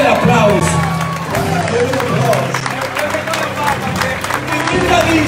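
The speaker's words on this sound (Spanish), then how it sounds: "Denle el aplauso." Audience applause and cheering fill a church revival service in Texas, a dense crowd roar with clapping and babble sustained throughout, with voices and music-like tones mixed in.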